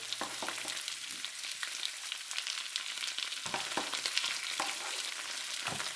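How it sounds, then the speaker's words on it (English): Chopped ginger and garlic fry in a pan for Chinese chicken thighs, giving a dense, continuous hiss of sizzling oil with scattered stirring knocks, close and steady, no voices. "and ginger and tablespoon of chopped up gingers, one of each. So let it kind of burn it a bit."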